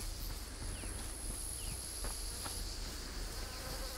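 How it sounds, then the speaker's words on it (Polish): Flies and other insects buzz continuously in bushes in A Plague Tale: Requiem, a steady close droning hum with a high thin whine running over it, with no voices. "Ale fajnie słychać, jak muchy latają, jak te wszystkie owady gdzieś tam brzęczą w tych krzaczorach"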